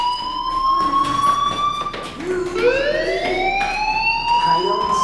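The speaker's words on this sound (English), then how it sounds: "Hey, do you hear that fire alarm?" A fire alarm rings in the video game Life is Strange, a loud, steady electronic wail sounding continuously and shifting pitch midway, with faint background sounds beneath.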